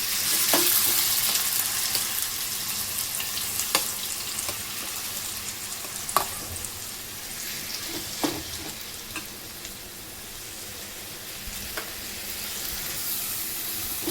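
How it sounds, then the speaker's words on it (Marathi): Ground onion fries in oil with a steady sizzling hiss at moderate loudness. Sharp scraping clicks come at irregular intervals as it is stirred. "कांद्याला आपल्याला लालसर होईपर्यंत थोडं भाजून घ्यायचं आहे"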